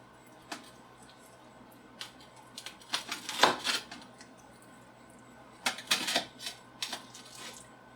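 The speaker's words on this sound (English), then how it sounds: "I'm going to use my 10-inch knife. Let's try and go down the middle" A 10-inch knife cutting through a Tombstone moussaka pizza, giving sharp scattered crunching and scraping strokes against a pan or board, quiet and close, with clusters of cuts separated by short pauses.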